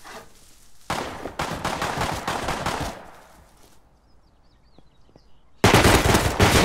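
Heavy automatic gunfire in the survival game Rust, loud bursts of rapid shots that pause, then return with another dense burst near the end.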